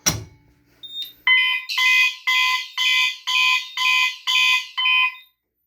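A System Sensor MASS fire alarm, set to 120 BPM march time, sounds loudly in a steady repeating pattern of about seven evenly spaced blasts, each a harsh buzzing tone.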